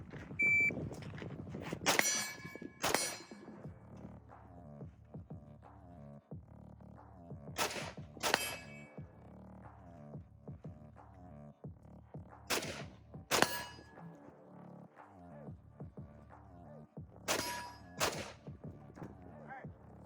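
A budget AR rifle fires in pairs of sharp, loud shots with ringing steel-target clangs, repeated about four times at roughly five-second intervals as the shooter changes stance between pairs.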